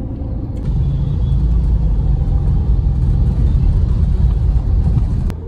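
Steady low engine rumble of a car moving through weekend city traffic in Whitefield, Bangalore, continuous and close from inside the vehicle, with no voices.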